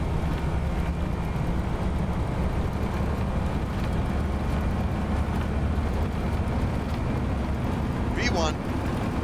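Airliner jet engines in X-Plane 11 during the takeoff roll, a steady loud rumbling roar with broadband noise, joined by a brief chirping tone near the end.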